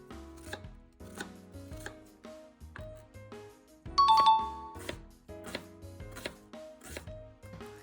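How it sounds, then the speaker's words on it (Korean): An onion, cut in half, is finely minced with a knife for an egg sandwich: steady rhythmic chops on a board, close and crisp, over soft background music. "양파를 반으로 잘라 잘게 다져줍니다."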